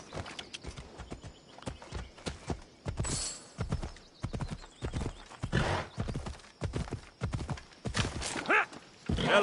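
A horse gallops in the video game Assassin's Creed Odyssey, loud rhythmic hoof clatter in quick bursts that carries on through the whole stretch, with a faint voice and occasional rushing noise mixed in.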